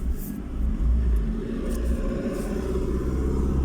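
Opel Corsa on a test drive after stalling earlier, its engine rumbling steadily and continuously from inside the cabin, with a low road drone and no talk.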